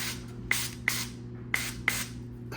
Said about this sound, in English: cooking spray on the parchment paper